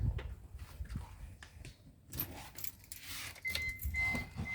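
Car keys jangle and clink close by while the ignition of a Proton Gen2 is switched on and off, in repeated bursts of metallic rattling with faint low rumbles between.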